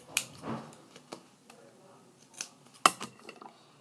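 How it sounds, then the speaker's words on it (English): Scissors trimming excess duct tape from a folded strip, a few quiet snips and small ticking clicks spread over a few seconds, close and faint with no talking. "Then I'm going to trim off the excess."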